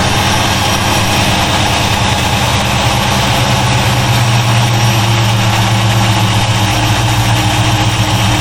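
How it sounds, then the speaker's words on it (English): Car engine with a Holley carburetor idling in a shop after its idle screw has been adjusted, on a Mercury Cougar, a loud, close, steady rumble with a fast, even low throb and no talking. "Okay, so now it's idling high"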